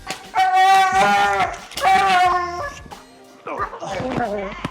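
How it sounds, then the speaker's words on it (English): A dog gives loud, harmonic high-pitched screams during bite work training, two long wailing bursts followed by a shorter one, close and loud with no speech over it. "Interestingly, Parker's a screamer."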